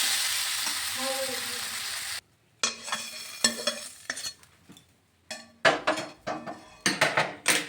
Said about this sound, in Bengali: ভেজে রাখা জিরা গুঁড়োটা দিয়ে দিলাম একটু ভালোভাবে একটু কষিয়ে নিচ্ছি